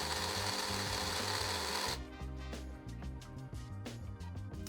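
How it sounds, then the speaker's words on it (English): A kitchen machine whirs loudly as it blends a garlic, white pepper and vinegar mixture until smooth. The pitch and texture change partway through as the motor keeps running steadily. "And then you're gonna run the machine for a while until it's very smooth."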